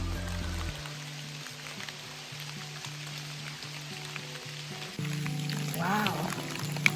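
Rain falling in a forest on a rainy morning, a soft continuous patter of drops on leaves and ground, moderately quiet and steady beneath a low background tone that shifts partway through.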